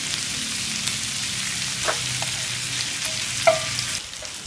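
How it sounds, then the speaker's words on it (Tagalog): Diced onions and bacon frying in a pan, a steady close sizzle with a few light clinks and stirring touches, the sizzle dropping slightly at the end. "we now have to cook everything in a pan. Now I'm putting the diced onions"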